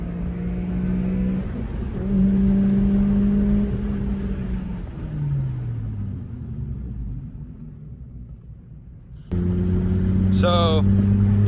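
A Honda Civic Si drives through repeated brake bedding stops, its engine note rising and falling in long sweeps as it speeds up and slows, then dropping low before surging again with a brief squeal near the end.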